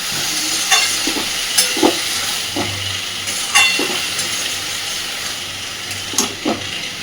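Snake gourd with turmeric fries in a pan under a constant soft sizzle, with about eight sharp spoon-scrapes and clatters spaced through the stirring, close and fairly loud.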